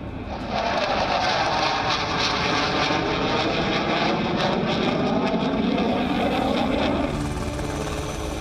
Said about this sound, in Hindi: जब आसमान को चीरते हुए रफाल निकलता है, जब गगन में तेजस कलाबाजी खाता है